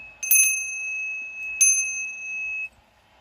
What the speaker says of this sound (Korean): 종소리가 되게 좋죠?